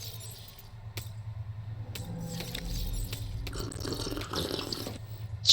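Water being collected in the underwater survival game Subnautica 2, a steady gurgling, splashing flow with scattered drips and clinks, fairly close and continuous, with no talk over it.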